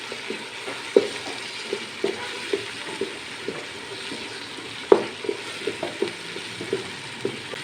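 Spices sizzle steadily in hot oil in a pan: red chilli powder, garam masala and turmeric. A continuous hiss is broken by sharp scraping clicks as they are stirred.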